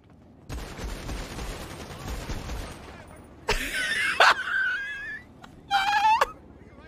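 Bursts of video game gunfire crackle from about 3.5 s and again near 6 s, loud and sharp over a steady bed of game noise, with a brief whimpering vocal sound in between.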